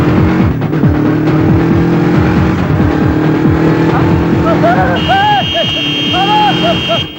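A motorbike engine revs loudly and continuously through a comedic escape scene, with engine harmonics rising and falling, while background music with high tones joins in the second half.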